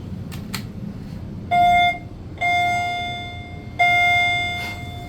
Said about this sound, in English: So it's 3 chimes for down and 2 for up.